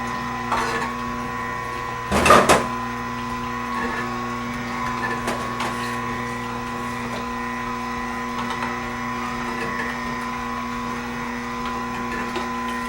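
An Omega juicer works through oranges with a steady, fairly loud motor drone and a brief louder clunk near the start, with no talking.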